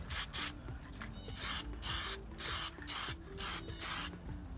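Aerosol spray can applying a second coat to a Honda steering wheel emblem, seven short close hissing bursts in an even rhythm with brief quiet gaps between them.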